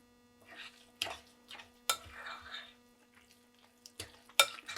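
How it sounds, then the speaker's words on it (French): Mango sticky rice being stirred in a pot, with scattered scraping and clinking strokes of the utensil, a few sharper knocks, and brief murmurs of a voice over a faint steady hum. "Je mélange bien."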